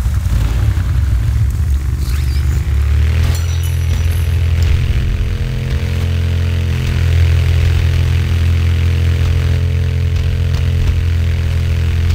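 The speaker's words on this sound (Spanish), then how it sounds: "Moto." A motorcycle engine idles steadily in Tomb Raider Underworld, a low continuous rumble that shifts to a deeper, steadier drone partway through, with no voices over it.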